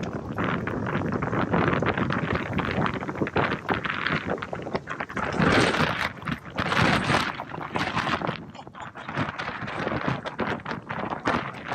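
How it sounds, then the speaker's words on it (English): Strong wind gusts of around 60 mph buffet the microphone in loud, rough surges, swelling and dropping irregularly throughout. "it's like 60-mile-an-hour gusts"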